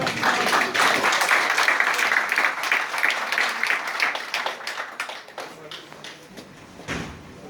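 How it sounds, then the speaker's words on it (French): An audience claps in a burst of applause that is strong at first, then thins into scattered claps and fades out, with a few thumps toward the end. "Est-ce qu'on va applaudir pour moi?"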